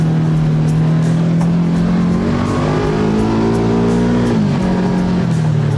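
A 2022 Kawasaki KRX4 1000 side-by-side accelerates up close, its engine droning loud and steady with a rising pitch, briefly dipping as it shifts before pulling on.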